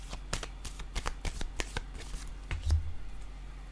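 Tarot cards shuffled and drawn by hand, a quick run of crisp papery riffles and flicks with a few sharper snaps, close up and alone.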